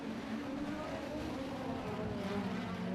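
Speedcars racing at speed on the clay speedway at Murray Bridge, including the number 3 and number 57 cars, producing a continuous loud roar of engines at full throttle with no voices.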